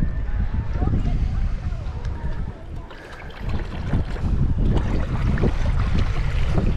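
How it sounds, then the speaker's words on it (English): Strong wind blowing across open sea during a kayak trip toward Tenby, a loud, steady roar with buffeting on the microphone that eases briefly and then surges back. "wind's blowing through here."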